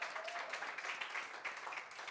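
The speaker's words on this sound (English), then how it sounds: "give yourselves a warm round of applause" Warm applause from the in-person audience at a hybrid women's business roundtable: a steady, dense wash of many hands clapping at moderate volume throughout, with no talk over it.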